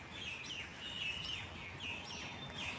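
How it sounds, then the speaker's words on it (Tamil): Birds chirp and call in a large park, several repeated high tweets rising over a quiet, faint background wash, heard at moderate distance with no one talking. "இப்போ பாருங்கள் எல்லா பறவைகளும் எப்படி கத்திக்கிட்டு இருக்கு"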